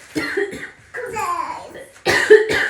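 A young boy coughs several times in short bursts in a home, close and fairly loud, with some laughter-like vocal sounds between coughs.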